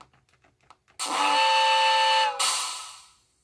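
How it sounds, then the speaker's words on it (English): A garden railroad model steam locomotive sounds a sustained electronic steam whistle, a loud steady tone with hiss that holds about a second and a half, breaks briefly, then returns and fades out; faint clicks precede it. "we get the whistle, and then as I increase the power, we get the increased chuff"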